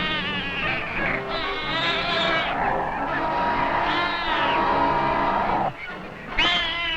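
A bobcat snarls and yowls while fighting a badger at the badger's burrow, drawn-out strained cat cries and growls that rise and fall continuously and fill the scene close up.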